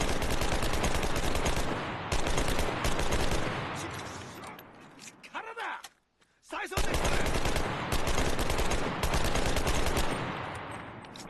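Rapid automatic rifle fire in the shooter game Enlisted from a weapon with 50-round magazines, long loud bursts broken by a brief pause before firing resumes.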